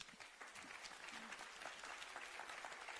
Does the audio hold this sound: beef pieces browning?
no